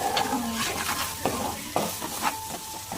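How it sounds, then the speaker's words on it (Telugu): Ginger garlic paste frying in a pan at home, a steady close sizzle with several sharp stirring and scraping knocks of a spoon against the pan, no talking. "అల్లం వెల్లుల్లి పేస్ట్ మంచిగా ఫ్రై అయ్యాక స్మెల్ పోయింది"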